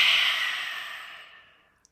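A single long, breathy exhale during a calming breathing exercise, heard close and clear, starting strong and gradually tapering off into silence over nearly two seconds.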